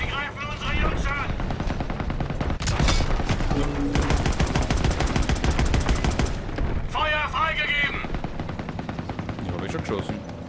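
A gunfire exchange in Call of Duty WWII, with rapid machine-gun bursts and rifle shots crackling loudly over heavy background rumble, while voices talk over the shooting.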